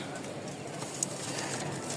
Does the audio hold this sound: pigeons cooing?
yes